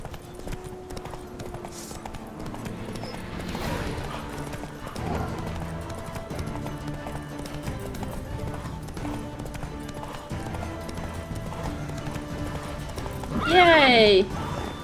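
Rhythmic hoofbeats of a galloping horse in The Witcher III clatter steadily throughout, closing with a loud, high neigh near the end, all over a faint game-like background.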